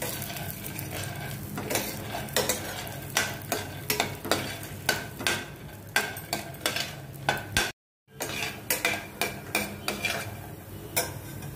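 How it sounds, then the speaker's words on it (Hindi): Half a cup of peanuts roasting in two spoons of oil in a frying pan, with repeated scraping stirs and clinks of a spoon against the pan over a soft sizzle, close by; brief silence midway. "तेल 2 चम्मच, और इसी में डाल देती हूँ मूँगफली लगभग आधा कप है"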